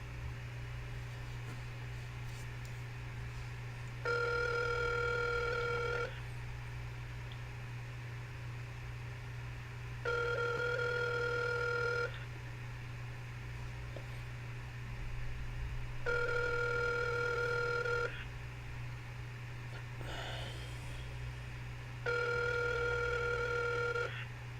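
Telephone ringback tone on an outgoing cold call, repeating as four evenly spaced two-second rings over a steady low electrical hum.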